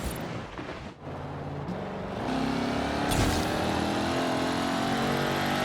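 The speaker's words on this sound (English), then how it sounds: "let's go and see how the Bowler drives in stock form" Bowler EXR S off-road supercar accelerating on a road, a loud, steady engine roar that builds and holds with rising tone close by, no talk.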